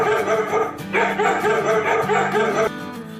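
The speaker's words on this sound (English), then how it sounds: "D for dog." A cartoon dog barks in a children's animation, giving a quick series of yappy barks over a bright, steady musical backing, close and clear.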